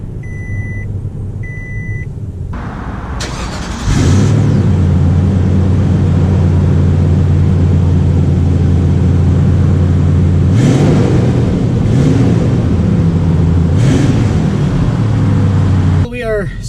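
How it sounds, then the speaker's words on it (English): A 2019 Toyota Sequoia Platinum starts up and sets off: a few electronic chimes in near silence, then the engine catches and settles into a steady, loud drone with brief rises as it pulls away. "let's take the new Sequoia out to see how it drives"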